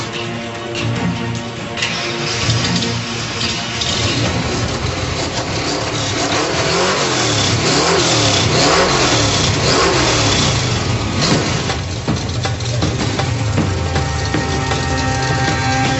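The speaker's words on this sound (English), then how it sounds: "These guys finally got their engine started" A 1990 Fox Body Ford Mustang engine revs hard and repeatedly, loud and close, its pitch climbing and falling in sustained bursts with rattling mechanical noise.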